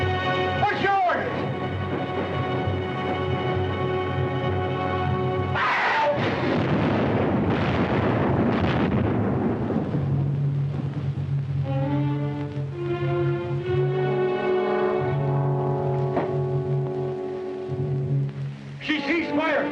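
Cannon fire from an attacking ship in an old 1930s film rumbles as a heavy, prolonged burst of booming noise in the middle, set between stretches of orchestral music and voices.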